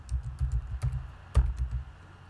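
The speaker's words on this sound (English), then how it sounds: "Now go to the search area," Keys on a computer keyboard tapped in a quick, uneven burst of close clicks, with no voice over them.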